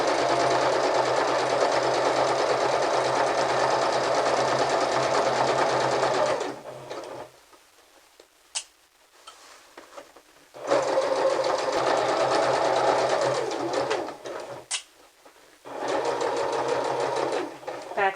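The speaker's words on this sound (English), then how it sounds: "we're going to backstitch and stitch all the way to the other end" A sewing machine stitches a clutch purse, a steady loud whirring run that stops, restarts after a pause with faint clicks, and stops again briefly before resuming.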